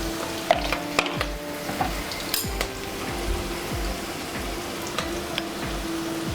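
Turmeric and garam masala fry in a pan with softened prawns for an Andhra gongura prawn curry, giving a steady close sizzle with scattered scrapes and stirring clicks, no voices.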